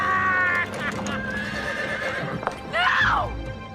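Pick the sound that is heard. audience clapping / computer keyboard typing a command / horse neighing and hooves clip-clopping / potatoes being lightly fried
horse neighing and hooves clip-clopping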